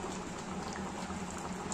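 Dal pitthi bubbles at a steady boil in a pot, a continuous close hiss and soft popping that holds evenly throughout with no voices.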